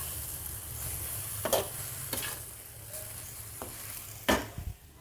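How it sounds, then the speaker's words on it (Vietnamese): Vegetables, noodles and shrimp are stir-fried in a pan under a soft, continuous sizzle, broken by several sharp clacks and scrapes of a utensil against the pan. "Xào sơ 15 giây thì mình sẽ cho sốt vào luôn nha."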